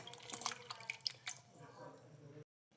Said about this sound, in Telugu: అందుకోసం చింతపండు రసాన్ని ఇలా పిసుక్కుందాం